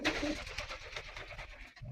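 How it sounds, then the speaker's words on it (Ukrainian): Pigeons coo softly in the distance, a low murmuring warble repeating over a quiet, faintly rustling background. "голуби мостяться, голуби сідають"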